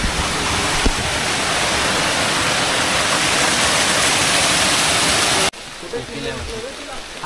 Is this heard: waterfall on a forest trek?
yes